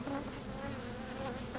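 Honey bees buzz in a dense, steady drone while a hive is cut out from inside a house wall, the sound close and continuous with no talking.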